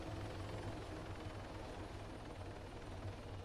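Helicopter rotor chopping in the video game Arma 3, a steady, fairly faint thrumming beat with a whine on top, alone without talk.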